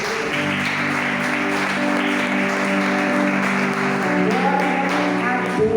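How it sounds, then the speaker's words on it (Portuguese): A church congregation applauds during a sermon, a steady wash of clapping under sustained voices and music tones, continuing throughout. "Glória a Deus, aplaude o Senhor."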